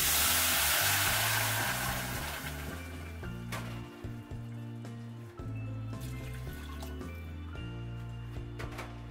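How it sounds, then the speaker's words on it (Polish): Water poured into a pot of fried rice, a loud hissing, sizzling rush at first that settles into a bubbling simmer, with clattering and steady background music throughout. "delikatnie już nasz ryż odsmażony, będziemy dodawać wody"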